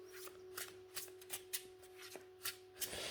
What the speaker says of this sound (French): le jeu se mélange bien. Les cartes glissent bien